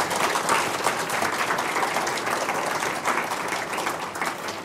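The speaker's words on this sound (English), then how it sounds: "Shall we give them a round of applause?" An audience applauds panellists at an International Women's Day event, a dense, steady clapping from a sizeable crowd lasting the whole stretch, fairly loud and close.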